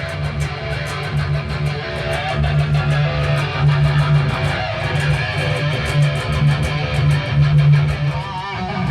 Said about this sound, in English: Definitely a happening guitar tone.